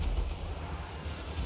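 Booming artillery fire from Dwarf steam cannons in a Total War: Warhammer 3 battle, a dense continuous low rumble of blasts that stays loud and steady throughout.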